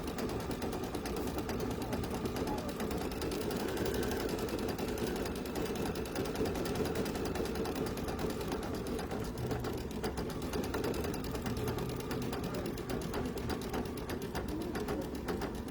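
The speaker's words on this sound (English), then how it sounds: "this that we're doing here, and then this piece here is the only satin stitching I'm going to have you watch" An embroidery machine sews a satin stitch on an in-the-hoop pumpkin utensil holder, a continuous rapid mechanical chatter that stays steady and close throughout, with faint room noise beneath.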